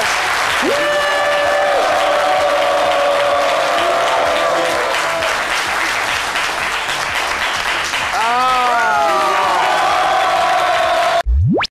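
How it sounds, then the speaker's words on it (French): A studio audience at a French talk show applauds loudly and continuously, with whoops and cheers rising over the clapping and an abrupt cut at the end. "Allez, on applaudit très fort pour Gustave Fezambi"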